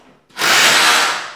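A hammer drill in hammer mode bores with a 10 mm bit, no chisel, while multi-layer pipe connections are fitted. It starts after a short pause and then holds as a loud, close, continuous grinding whir.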